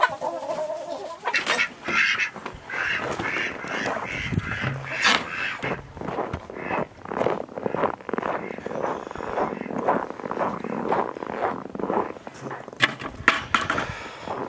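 Several ducks quack busily and overlapping, close by, in a continuous noisy chatter with some scuffling.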